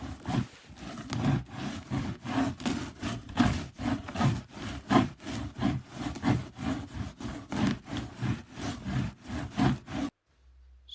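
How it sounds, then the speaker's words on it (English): A dubbed-in sound effect of a handsaw cutting wood gives a rapid, regular back-and-forth rasp of about twenty strokes, close and fairly loud, then stops abruptly into silence. "I've put the sound effects on of cutting wood."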